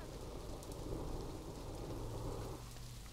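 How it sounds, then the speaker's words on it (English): Rain falls steadily in a zoo management video game, a soft continuous hiss with a low rumble of thunder rolling underneath, faint and even throughout. "Oh, it started to rain and thunder and everybody vanished."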